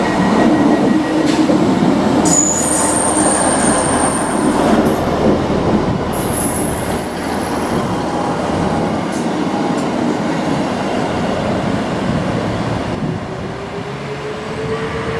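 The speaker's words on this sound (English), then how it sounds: "let's watch it go into the sidings" A train rolls steadily into railway sidings outdoors on a walk between Todmorden and Walsden, a continuous loud rumble of wheels on track with high metallic squeals from the wheels partway through.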